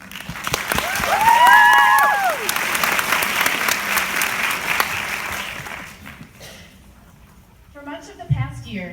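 Loud audience applause fills the room as a reader is welcomed onto a stage, sustained and dense for several seconds before tapering off, with a few whistles near the start and a voice beginning to speak at the end.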